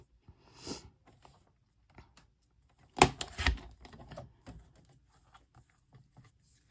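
Scissors snip coloured paper into one-inch squares for a paper quilting craft, a few sparse close cuts with a brief burst of snipping and rustling in the middle, otherwise quiet.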